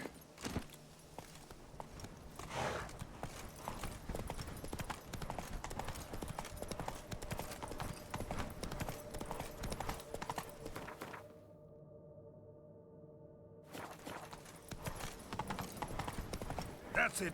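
Roach the horse in The Witcher 3 galloping, a steady rapid drumming of hooves with a short quieter break before the hoofbeats return, and someone speaking over it.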